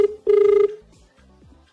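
A telephone rings on a Filipino noontime variety TV show: one short loud electronic ring, then a longer one, followed by quieter, fainter tones and murmurs.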